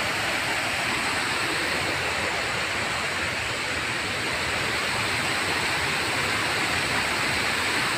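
The Riam Kecala waterfall in Kalimantan roars as a steady, dense rush of falling water, loud and unbroken throughout with no voices over it.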